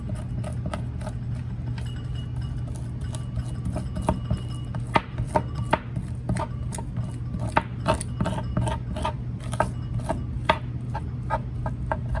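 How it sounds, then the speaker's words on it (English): Knife scraping sinew from a bonefish (O'io) fillet during cleaning, a steady run of small, quick, close scrapes and light taps over a low hum. "you want to just hold your sinew down and then do small, like quick scrapes just to get everything out"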